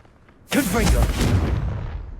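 Confringo explosive spell from the Hogwarts Legacy video game, one sudden loud blast with a sharp onset and a long rumbling decay that fills the clip.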